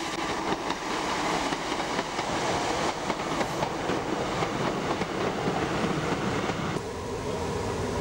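A train runs along the railway line down the valley of Ford's Lake toward Kilgetty in South Wales, its wheels giving a steady rolling clatter with rail rumble that continues throughout.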